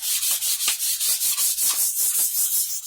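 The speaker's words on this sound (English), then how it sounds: "I'm not particularly wanting to sand it as such for just scuffing it a little bit and getting it smooth, ready for the gloss to go on." Light scuff-sanding across a Fender Squier SE guitar body before gloss paint: a steady rhythmic rasp of strokes, roughly five per second, close and even, with no voices.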